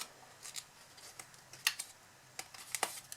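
Scissors snip wedges out of a paper box in a quiet room, giving a few faint, sharp cuts at uneven intervals.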